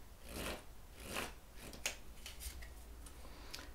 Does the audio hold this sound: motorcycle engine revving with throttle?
no